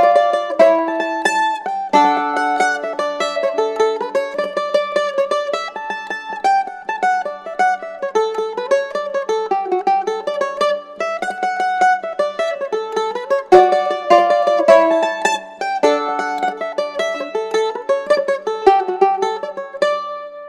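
The Champion Jig is played on an Irish mandolin with full chords, a steady bright stream of plucked notes and strummed chords with a lilting jig rhythm and a descending bass line beneath the melody, close and alone for about twenty seconds.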